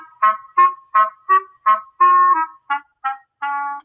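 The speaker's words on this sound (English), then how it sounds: "And then, of course, here's your clarinet." A clarinet plays a short sequence of about nine separate sustained notes, heard clearly and up close with nothing else around it.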